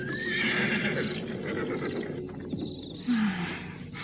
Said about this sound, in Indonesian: kuda yang didapatnya dari Raden Pancardumung ditambatkan di sampingnya